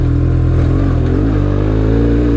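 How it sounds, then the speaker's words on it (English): Close, loud engine roar from a loaded BMW R1150 GS motorcycle on a backcountry route, steady throb rising in pitch as it revs and pulls along. "Even loaded down, the old GS still rips."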